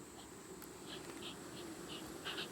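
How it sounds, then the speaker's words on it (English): A crowd of honeybees hums steadily around a crowded hive box in September beekeeping, a low continuous drone with a few individual bees zipping close by. "Just too many bees here."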